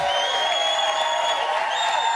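Live-final studio crowd for Celebrity Big Brother cheering loudly in a continuous roar with whoops and sustained tones over it, no gaps.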